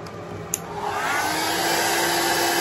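A hair dryer blows on an alcohol ink painting with a steady, close whoosh that swells slightly louder after a click near the start and then holds evenly to the end, with no talk.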